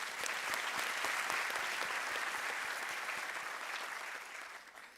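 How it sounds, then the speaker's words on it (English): Steady, enthusiastic audience applause at a University of South Africa autumn graduation ceremony, dense clapping from a large hall that holds for several seconds before gradually fading away. "Let us give her a round of applause"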